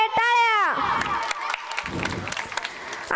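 Audience applause and cheering at a school cultural program in Rajala, Jalna district, rising after a whistle-like tone and continuing as a steady crowd roar of clapping and voices.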